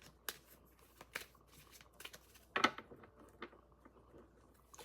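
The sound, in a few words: shuffling tarot cards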